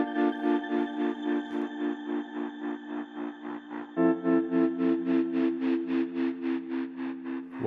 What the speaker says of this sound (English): For this part I also added a tremolo guitar.